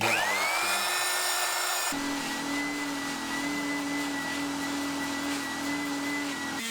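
A Dremel rotary tool spinning a steel wire brush against brass parts gives a loud, steady high-pitched whine that shifts pitch briefly near the start, then holds a continuous buzzing drone with no speech.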